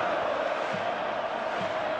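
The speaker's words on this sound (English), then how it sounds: "Currently at fever pitch in the stands" A packed Napoli stadium crowd roars at the start of the second half against Fiorentina, a dense, sustained wall of chanting voices heard from a distance, with no break.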